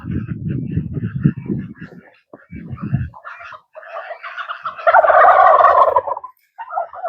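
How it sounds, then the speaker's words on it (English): A rooster gobbles and clucks loudly at close range by a duck pond, with rapid bursts of calls building to a dense, raspy stretch before a short pause. "I don't know if you caught that clucking. That was one of the roosters coming back."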